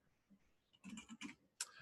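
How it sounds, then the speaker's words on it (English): Quiet clicks of computer keyboard keys come in a short cluster of a few taps, then one more sharp click, close and soft in an otherwise near-silent room. "In this case, I'm hitting the D key."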